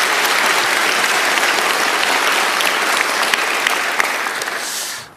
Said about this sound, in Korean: 여러분 박수 한번 더